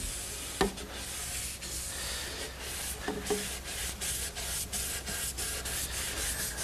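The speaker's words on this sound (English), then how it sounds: "I'm taking a clean rag and rubbing it in a circular motion." A clean rag rubbed in circles over a pine step stool to work in wood stain, a steady soft scrubbing hiss with faint rhythmic strokes and a couple of light knocks, close up and without speech.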